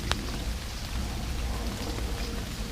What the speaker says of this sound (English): to come round to this swim to get a little bit of shelter from the rain